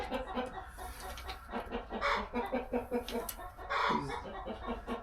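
Several chickens cluck continuously in short rhythmic bursts, with occasional louder squawks, fairly faint and close together.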